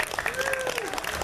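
Brief applause from a crowd at a comic con cosplay contest, scattered claps heard under a voice speaking over them.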